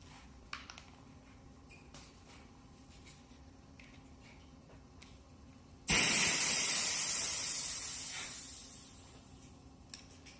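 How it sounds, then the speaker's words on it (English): Air rushes out of a bicycle tire valve in a loud, steady hiss that starts abruptly and slowly fades, with faint background before it on an EVOLV City bike. "a good idea is to let the air out"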